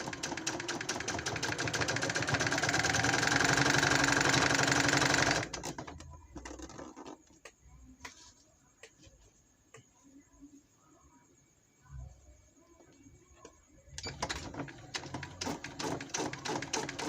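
A Janome sewing machine stitches a piping pillow cover in a steady, fast mechanical whir that stops partway, then resumes after a pause filled with quiet handling and soft talk.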